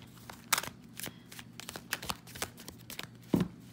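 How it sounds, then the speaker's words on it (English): Quiet, irregular riffling and snapping of playing cards being shuffled up close, with a few sharper flicks and no voices. "Let me just do one more shuffle."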